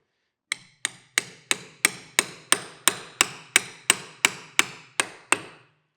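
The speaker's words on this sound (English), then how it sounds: "we will take a hammer" A hammer taps a part into place on a Monarch 612 lathe, fourteen sharp, evenly spaced metallic strikes, close and clear with no talk.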